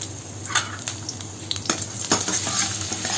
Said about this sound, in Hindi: अब हम लोग chop ginger garlic and green chilli को इसमें डालेंगे।